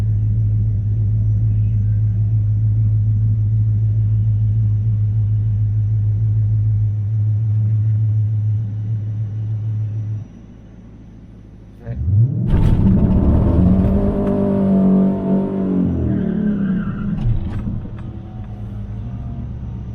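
A cammed Dodge Challenger R/T races an Infinity Q60, opening with a loud, steady lumpy rumble before dropping off, then a burst of hard acceleration with rising and falling engine sweeps, near and powerful.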